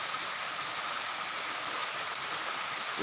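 Heavy, continuous rain pours down steadily, a dense even hiss with no let-up across the whole stretch, close by and moderately loud, with no voices.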